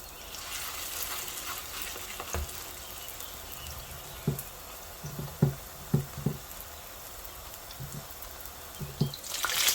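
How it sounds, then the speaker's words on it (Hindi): Chicken chapli kebabs fry in hot oil with a steady soft sizzle, broken by scattered louder pops and spatters, close and without talk. "साथ साथ बनाते जाते हैं और फ्राई करते जाते हैं"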